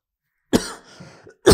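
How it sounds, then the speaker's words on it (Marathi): A man coughs twice at close range, the two harsh bursts about a second apart with a rough, breathy throat sound between them. "जरा खोकल्याचा प्रॉब्लेम होते, खोकल्याने थोडा त्रास होते बघा."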